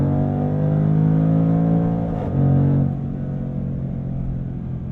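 A 2021 Jaguar F-Pace SVR's supercharged engine pulls hard, then snarls sharply as the quick transmission upshifts, with a brief dip and rise in revs before settling into a lower, steady rumble from inside the cabin.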